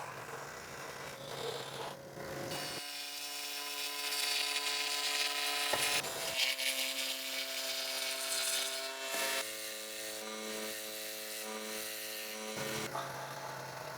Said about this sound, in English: I'm just going to cut the bulk of this out, if not all of it, on my scroll saw.